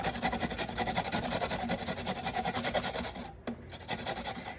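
Carrots are grated on a grater that drops the shreds into a dish underneath, making a steady rhythmic rasping of quick strokes up close that pauses briefly near the end before resuming.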